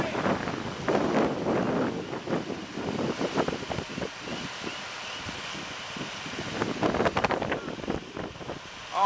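Strong wind on a cold, windy day buffets the microphone and rustles nearby trees in gusting, roaring bursts of noise throughout.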